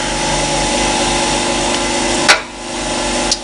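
A surface grinder wheel works a steel part under flowing coolant, giving a steady loud machine hum and grinding roar with a sharp hissing burst near the end and a brief click after.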